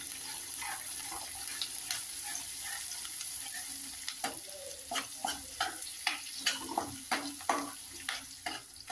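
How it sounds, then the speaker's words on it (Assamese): Mutton liver frying with coriander powder in a pan gives a soft, constant sizzle, while scattered scraping and clicking stir strokes grow busier toward the end, close by with no talk. "এতিয়া অকণমান ভাজিম দেই ধনিয়া গুড়িকণ।"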